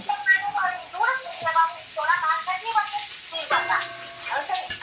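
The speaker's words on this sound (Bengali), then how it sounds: "এই দেখো এখন কাকরোল ভাজছে" Kakrol, or spiny gourd, frying in a pan with a steady hissing sizzle, mostly covered by someone talking throughout.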